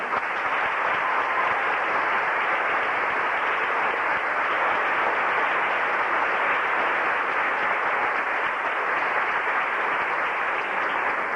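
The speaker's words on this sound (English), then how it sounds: "These ladies and gentlemen deserve a round of applause" An audience at a 1999 high school senior awards ceremony applauds scholarship recipients, a steady, dense wash of clapping from a large crowd that holds evenly without a break and has no voices over it.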